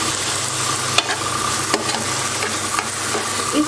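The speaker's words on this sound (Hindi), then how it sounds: "सब्जी ये रही, सब्जी इधर बन रही है" Vegetables frying in a pan in a home kitchen sizzle steadily while a utensil stirs them, giving a few sharp scraping clicks over the continuous hiss, close and fairly loud.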